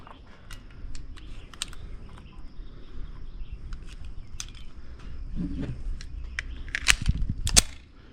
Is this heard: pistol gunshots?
yes